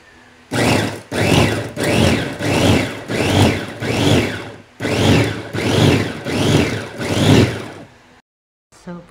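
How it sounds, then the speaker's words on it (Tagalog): Food processor grinding shrimp to a fine paste, a series of about ten loud, close pulsing bursts, each a rising and falling whir with brief gaps between, ending in silence. "Ang atin pong gagawin sa hipon ay ipo-food processor po natin ito para gilingin natin."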